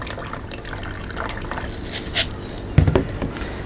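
Red cowpea (lobia) seeds being washed in water for microgreens: soft sloshing and trickling close by, with a brief splash and pouring burst near the end.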